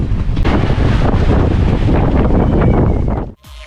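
Strong storm wind gusts roar across the open sea, buffeting the microphone in a loud, continuous rush with waves beneath, before dropping away suddenly near the end.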